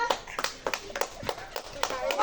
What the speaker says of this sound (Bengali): এই তো সবাই হাততালি দাও, হাততালি দাও